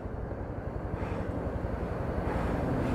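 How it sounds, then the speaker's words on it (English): A firefighting helicopter carrying a chemical bucket flies over wildfire smoke, its rotor throbbing in a low, steady rhythm at a distance under wind noise. "there's that helicopter right there."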